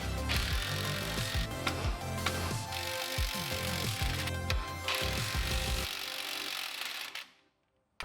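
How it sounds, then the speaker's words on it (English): Rapid ratchet clicks and metallic turning noises come from tightening the shock bolts on a 1985 Pontiac Fiero 2M4's suspension. Close bursts repeat steadily, then fall silent near the end. "I tightened back up the shock bolts"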